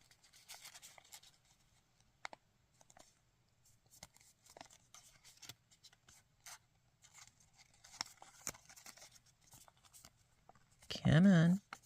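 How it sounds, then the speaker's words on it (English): Paper of an origami puzzle being folded and creased by hand: faint, close rustles, crinkles and light taps scattered through quiet passages, with a brief louder burst at the end. "Fold this edge down and in."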